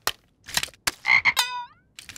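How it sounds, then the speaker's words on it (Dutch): Cartoon frogs croak in a few loud, separate bursts, one ending in a long falling warble, with short gaps of quiet between them. "Het zijn maar kikkers, Lana."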